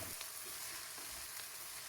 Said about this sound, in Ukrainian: Обсмажуємо перемішуючи 5-7 хвилин.